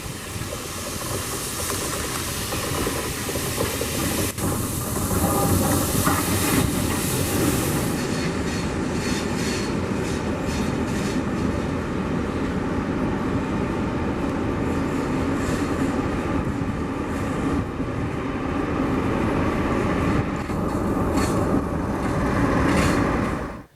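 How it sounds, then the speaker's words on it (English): A steam and diesel charter train on the South Devon Main Line, a loud continuous rumble of engine and rolling wagons passing close by, steady for the whole stretch with rhythmic clatter and bursts of hiss. "We spotted a steam and diesel charter train that was taking guests on the luxury rail tour on the South Devon Main Line."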